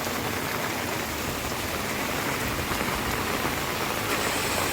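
Heavy rain after days of continuous downpour in Junagadh pours onto a flooded road as a dense, unbroken hiss of water. It stays loud and steady throughout with no speech.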